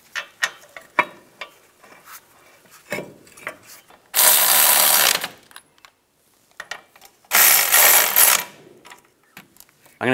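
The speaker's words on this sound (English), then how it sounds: "I'm going to torque these bolts to 220 foot-pounds" A ratchet tightens brake caliper bracket bolts on a 2007-2014 Chevrolet Silverado 2500 HD, with scattered clicks and clanks around two bursts of fast, loud ratcheting.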